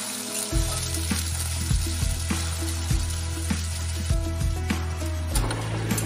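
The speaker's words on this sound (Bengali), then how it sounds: "কড়াইতে আলুটা দেওয়ার সঙ্গে সঙ্গে এত তেল ছিটেছে" Small chopped potato pieces sizzling in hot oil in a wok seasoned with cumin, a loud steady crackle punctuated by regular sharp knocks and spatters.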